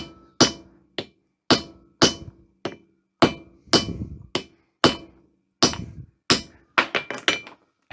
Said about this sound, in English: you don't want to hammer it so much that you flatten one side completely